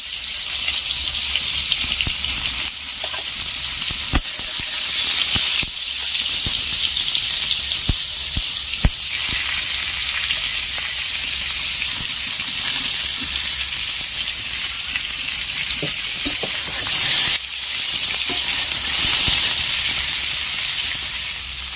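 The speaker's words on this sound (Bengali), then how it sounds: "আমি এঁচড়টাকে ভেজে নিচ্ছি।" Young jackfruit frying in oil in a wok makes a steady, close sizzling hiss that runs unbroken throughout, dotted with occasional stirring scrapes and clicks.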